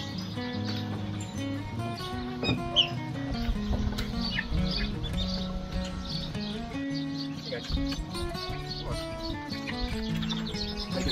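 Many turkey poults chirp and peep constantly in a busy, high-pitched chorus, close up, with little else over it.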